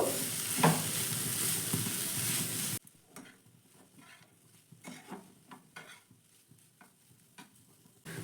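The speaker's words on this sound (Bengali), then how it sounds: "এবার সব মশলাগুলো ভালো করে আমি মিশিয়ে নেব" Spices are stirred into vegetables in a pan, loud sizzling at first, then quieter intermittent scraping and clicking strokes of the spoon against the metal, close and without voices.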